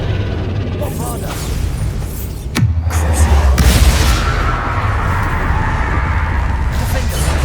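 The Bombarda spell in Hogwarts Legacy fires with a sharp whoosh and then a deep booming explosion with a rumbling tail, loud and close over dense game noise.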